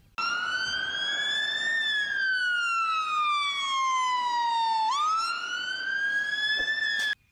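A toy fire engine siren wails loud and close, a single electronic tone slowly rising and falling, then cutting off abruptly, with no voices.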